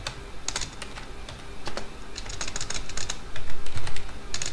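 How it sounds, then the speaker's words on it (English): Rapid typing on a computer keyboard, with uneven bursts of close, crisp key clicks that get louder and more clustered toward the end, heard alone with no talking. "So I'll type it"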